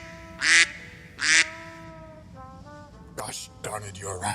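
A cartoon duck gives two loud, nasal quacks in quick succession, followed by softer warbling vocal noises and a burst of squawky chatter, all close and prominent.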